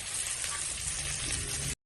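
Capsicum fries in a wok with potato and oil, giving a soft, steady sizzle close by that stops abruptly near the end.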